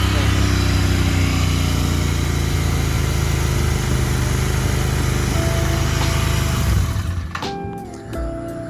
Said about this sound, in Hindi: पहले हम रैप करेंगे इसको 3 RPM तक।